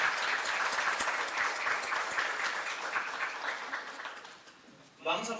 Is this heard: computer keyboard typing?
no